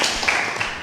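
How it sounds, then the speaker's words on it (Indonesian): Audience applause for a young athlete at a school podcast event, a short, dense burst of hand clapping at steady loudness for under a second. "tepuk tangan dulu dong."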